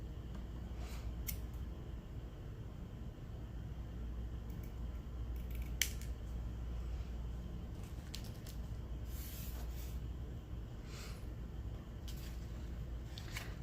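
Scissors cutting paper for a handmade sewing-pattern themed tag: a few quiet, crisp snips spaced across the clip over a low steady background hum, with no talking.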